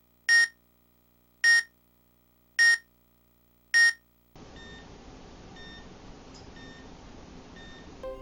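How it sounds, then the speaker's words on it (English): Four evenly spaced, sharp electronic beeps from a Game & Watch alarm ring out clearly in Super Smash Bros. Flat Zone, followed by a steady low background hum with faint repeating tones. "the appropriate alarm element for that game will show up, and start beeping in a manner very similar to how it actually sounded"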